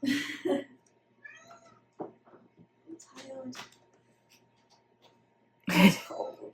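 A domestic cat indoors near a bed gives several short meows in scattered bursts, close and moderately loud, among quiet gaps, with a louder sharp vocal burst near the end.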